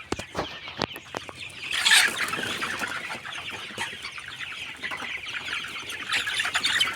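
Broiler chickens cluck and chatter throughout a poultry shed, a dense, continuous flock murmur with a brief louder burst of squawking near the start and faint knocks early on.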